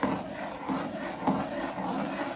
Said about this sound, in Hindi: अब हमने इसके अंदर मुस्तकिल चम्मच चलाते रहना